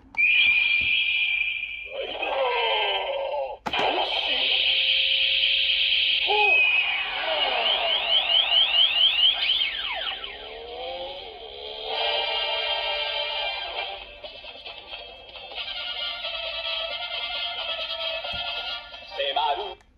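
A Bandai CSM Typhoon transformation belt toy plays its electronic sound effects: chiming tones, sweeping whistles and a burst of music from a small speaker. The sounds run continuously with brief pauses, fairly close and clear.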